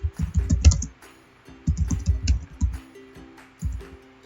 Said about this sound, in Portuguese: é só você digitar nome completo